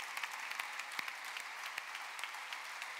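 Soft, steady applause from an audience at an award ceremony honoring influential women, many hands clapping evenly at a moderate distance, with no voices over it.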